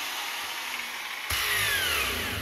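A bench grinder whines steadily while sharpening a 3/4 pitch chainsaw chain, with a louder, rougher grinding rasp starting partway through as the wheel meets the cutters.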